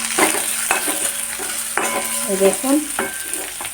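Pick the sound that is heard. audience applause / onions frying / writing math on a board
onions frying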